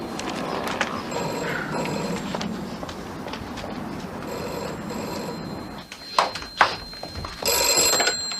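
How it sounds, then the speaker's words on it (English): An old-style telephone bell rings several times in a quiet room in a 1980s British drama, the ringing clear and fairly close, with some soft movement around it. "Oh, God, there's a phone."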